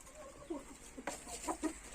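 Backyard chickens cluck a few short times, quiet and close, in an otherwise calm setting.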